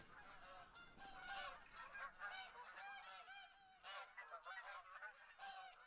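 Dense, overlapping goose honks from a large flock in The Hunter: Call of the Wild keep up a steady, noisy clamor, with calls rising and falling in bursts throughout.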